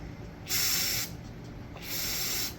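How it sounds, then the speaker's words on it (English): Two bursts of aerosol spray hiss while rebuilding a Holley carburetor, each about half a second, separated by a short pause, fairly close and steady. "It's spraying across the room there"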